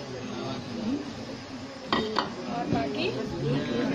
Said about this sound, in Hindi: इसमें डालेंगे ये थोड़ी सी मटर